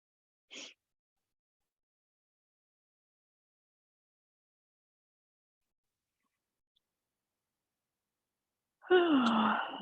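A long, drawn-out yawn with a falling vocal tone swells near the end after a long quiet stretch, preceded by one brief soft breath early on.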